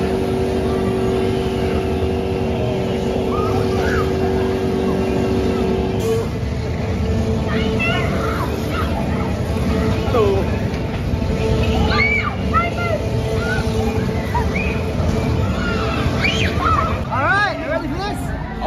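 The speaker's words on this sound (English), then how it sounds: "now I'm going to take a ride on Pharaoh's Fury, the twister ride that is down here at Adventure Island" The Pharaoh's Fury twister ride at Adventure Island churns with steady loud mechanical rumble and whooshing, amid a crowd babble and occasional shrieks, with music-like tones drifting through a busy fairground.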